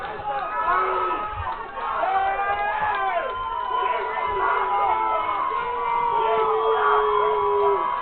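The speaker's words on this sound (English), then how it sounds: "there's a cheer for Ridge right now because of him getting thrown out" A crowd at a high school football game between Valle Catholic Warriors and Caruthersville Tigers cheers and whoops as a player is ejected, with shouts rising over a nearby voice talking.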